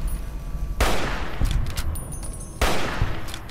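Gunfire in the video game Fallout: New Vegas: two loud, sharp bursts of shots about two seconds apart, each with a crackling tail, plus a few fainter shots in between.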